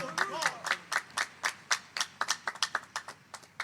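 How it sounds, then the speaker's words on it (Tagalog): A church congregation clapping in rhythm during a sermon service, a string of sharp, evenly spaced claps close by, briefly overlapping a voice at the start. "Isang malakas na palakpak uli sa ating dakilang Diyos sa buhay."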